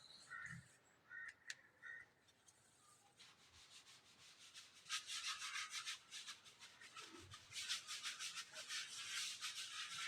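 Writing is rubbed off a board with a brisk, scratchy back-and-forth swishing that grows steadier and louder in the second half, preceded by a few faint knocks and taps.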